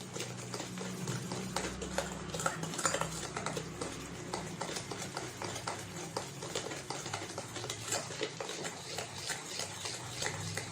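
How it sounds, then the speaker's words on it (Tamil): Butter and sugar beaten by hand in a bowl for a butter cake, the sugar crystals giving a steady gritty scraping with rapid rhythmic strokes throughout, close and continuous with no talking. "இந்த ஜீனி சவுண்டு உங்களுக்கு கேட்கும்."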